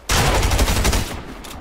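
Gunfire from an opponent in Fortnite, a loud close rapid string of shots lasting about a second, then a pause and a few more quieter shots.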